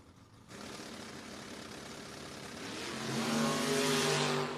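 A Chevrolet S10 and a Camaro launch down a drag strip in a no-box 660 shootout race, engine noise jumping up abruptly after a brief quiet moment, then building louder with rising revving tones toward the end.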